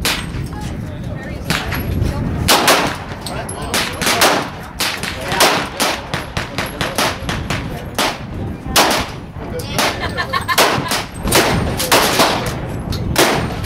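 Pistols and magnum revolvers firing at the Burro Canyon outdoor shooting range, a dense irregular stream of loud, sharp reports from several shooters overlapping throughout, with faint voices underneath.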